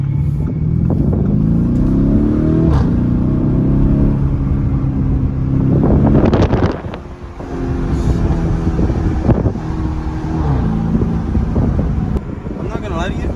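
A Lamborghini Urus accelerating, its exhaust rumbling loudly with rising engine pitch and sharp crackle bursts, heard from inside with wind buffeting and people talking over it.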